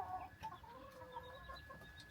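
Chickens kept at home for eggs and hatching cluck softly and intermittently in a quiet yard, faint and somewhat distant, with no talking.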